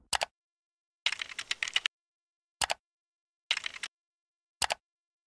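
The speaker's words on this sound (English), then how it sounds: "Type www.hpconnected.com into the address bar and then press Enter on your keyboard" Someone types on a computer keyboard while entering a web address to add a printer to an HP Connected account: short, crisp bursts of rapid keystrokes separated by silent pauses, close and clear with no talking.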